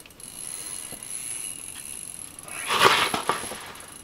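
An ice-fishing reel's loose drag clicks in short ratcheting bursts as a whitefish pulls line in Canada, faint at first and then a louder, rapid run of clicks near the end.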